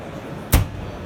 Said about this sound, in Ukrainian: Тепер звернімо увагу на те, як механізм цієї дверки закривається автоматично.